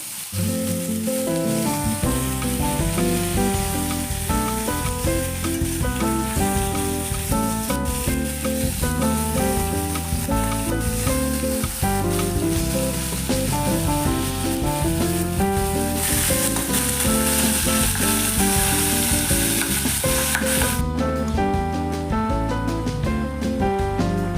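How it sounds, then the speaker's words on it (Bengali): Hilsa fish head sizzles steadily in hot oil in a frying pan, a constant loud crackling hiss that runs the whole time beneath tonal background music. "দেখো মাছটা ভেজে নিচ্ছি"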